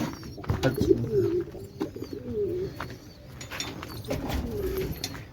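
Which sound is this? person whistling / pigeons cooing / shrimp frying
pigeons cooing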